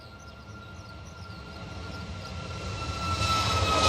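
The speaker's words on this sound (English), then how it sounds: "I have a Budapest service for you, which is a 737 MAX 8200 from Ryanair, and that is rolling right now." A Ryanair Boeing 737 MAX 8-200 rolling for departure at Bristol Airport: a distant, steady jet roar that swells gradually louder throughout, heard alone with no talking.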